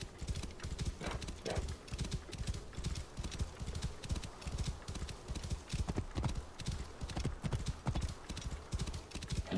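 Rapid, rhythmic hoofbeats of a galloping horse in Assassin's Creed Origins pound on steadily throughout, with a brief whinny early on.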